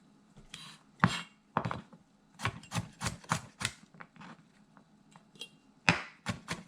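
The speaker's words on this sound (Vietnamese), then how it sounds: "Chúng ta băm nhuyễn tỏi ra." Two garlic cloves being minced with a knife on a board for cashew chicken, a steady run of quick, crisp, close chopping strikes in uneven bursts, with no voices.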